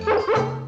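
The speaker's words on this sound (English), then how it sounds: "the puppies are here!" A newborn litter of puppies gives short, high yips and whimpers in quick succession, close and fairly loud, with no talking over them.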